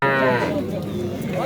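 A female calf at a livestock market moos loudly and drawn-out, a second call rising near the end, with market voices and crowd noise around it.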